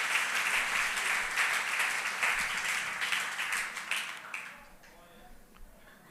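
Church congregation applauding in praise during a Portuguese-language service: loud, full clapping from many people that thins and fades out toward the end, with voices rising through it.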